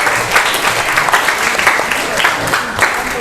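Classroom applause for group 1, a dense, steady clapping from a group of students lasting a few seconds without a break.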